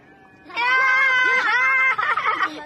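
A goat lets out a long, loud bleat close by, wavering in pitch and then breaking into a shorter, shakier cry before it stops.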